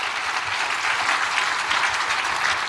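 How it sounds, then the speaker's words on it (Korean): A church congregation claps together during a sermon, a thick continuous roar of many hands that holds steady and fairly loud throughout, with no talking on top. "하나님께 영광의 박수입니다."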